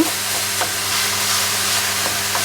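Mince frying in a pan for cottage pie, broken up with a whisk: a steady loud sizzle with a few scraping stir strokes, no talk.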